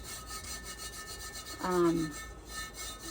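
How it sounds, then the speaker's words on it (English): Loose glitter is rubbed off a tumbler with a short, soft scraping rub that swells briefly near the middle, faint and close against a quiet background. "rub all that glitter off"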